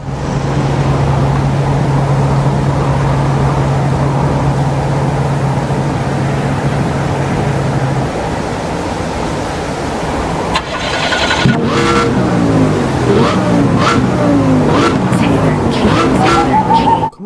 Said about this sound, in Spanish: Solo escuché el arranque de este Lamborghini Gallardo.